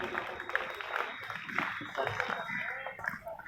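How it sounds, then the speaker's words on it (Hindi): Applause for a poetry performance at a college Republic Day event, with scattered clapping from the audience running beneath someone speaking loudly over a microphone. "जोरदार तालियों के साथ में।"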